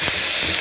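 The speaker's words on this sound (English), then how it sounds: "So let's add in our ginger garlic paste." Ginger garlic paste drops into onions already frying, giving a short, loud, close burst of bright sizzling hiss.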